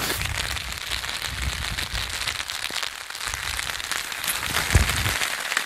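Rain falling on a Marmot Vapor 2P tent pitched at 1600 m, a steady close patter of drops across the fabric with scattered louder hits and no talk.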